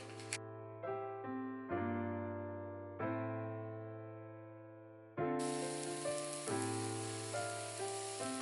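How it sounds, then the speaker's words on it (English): French toast cooking in a pan of melted unsalted butter, the sizzle swelling into a loud, steady hiss partway through over a sustained tonal background. "then we're gonna go ahead and get our French toast on there cooking"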